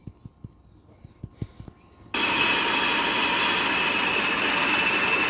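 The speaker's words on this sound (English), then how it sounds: "Some type of diesel locomotive." Several soft, evenly spaced knocks give way abruptly to a loud, steady diesel roar from a British Rail Class 40 locomotive in a train video game, the engine drone holding constant to the end.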